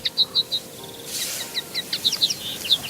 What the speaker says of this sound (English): so I guess that I hear the birds singing.